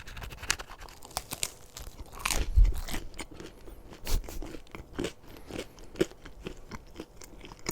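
Someone eats a mac and cheese pizza with a very cooked, crunchy crust: close, crisp bites and crunching chews at an irregular pace, loudest around one heavy bite, with no talking.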